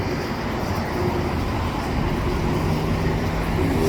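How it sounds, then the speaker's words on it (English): An eastbound shop train rumbles through a railway yard, a steady broad roar of wheels and engine that holds even and loud throughout. "the eastbound shop train departure soon"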